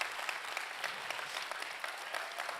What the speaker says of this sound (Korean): 너무너무 아름다운 연주로 저희들에게 큰 감동을 주신 우리 박지희 교수님께 다시 한번 박수 부탁드립니다.